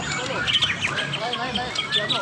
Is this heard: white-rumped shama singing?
yes